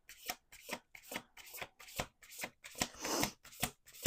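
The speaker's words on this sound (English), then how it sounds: "We're going to do 2 more shuffles." A deck of tarot cards is riffle-shuffled over and over at close range, giving a run of about nine quick, crisp riffling bursts in a steady rhythm with short gaps between them, and no talking.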